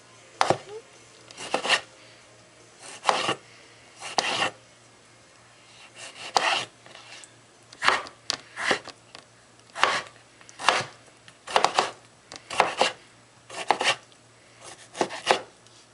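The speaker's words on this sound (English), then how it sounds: "and then slice again to make, just dice" A knife dices vegetables for salsa on a cutting board, with bursts of quick, sharp chopping taps separated by short pauses, repeated evenly and heard close.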